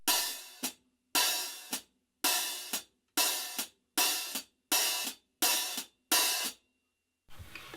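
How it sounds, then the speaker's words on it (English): A drum kit hi-hat plays a groove of eighth notes, opened on each downbeat and snapped closed on the ands, eight loud, close sizzling washes each cut off sharply, repeating steadily in an even rhythm. "you're going to open the hi-hat on all the downbeats, and you're going to close the hi-hat on all the ands."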